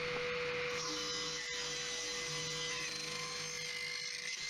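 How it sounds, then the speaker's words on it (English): A table saw cuts a knot away from a piece of wood, giving a steady, continuous whine with a rough rasping edge throughout and a brief dip partway through, with no voices. "So I took it over to the table saw and cut away that part."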